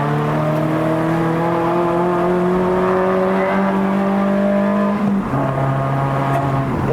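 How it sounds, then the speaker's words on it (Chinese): A Perodua Bezza 1.3L Premium X with a five-speed manual gearbox and an aftermarket exhaust drones loudly while climbing a mountain road, its engine note rising steadily and then dropping sharply on a downshift before pulling again. "我们来听一下降档声音。"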